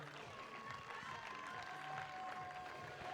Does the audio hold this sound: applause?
yes